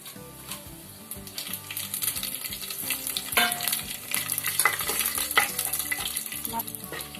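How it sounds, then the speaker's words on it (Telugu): Whole spices hit hot oil for a tomato rice tempering, crackling and sizzling close up, with a spoon stirring and scraping against the pan as the frying grows louder. "నూనె వేడైందండి, మసాలాలు వేసుకుందాం"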